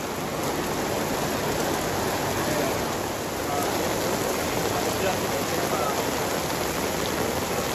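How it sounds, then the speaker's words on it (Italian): Heavy rain pours steadily on the Camino Primitivo walking route, a dense continuous wash of drops hitting surfaces nearby, with no break in the sound. "Piove."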